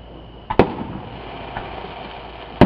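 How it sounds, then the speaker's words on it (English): July 4th fireworks burst outdoors in two sharp, loud cracks about two seconds apart, with a faint pop between them over a steady background hiss and no talking. "That's the fireworks."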